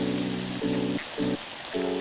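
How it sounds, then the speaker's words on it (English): Stir-fried egg noodles sizzle in a pan as stir-fry sauce is drizzled around the sides, giving a steady, rain-like crackle with a low tonal hum that comes and goes. "drizzle that stir fry sauce like around the side of the pan. That way it's immediately starting to sizzle and bubble and get all caramelized"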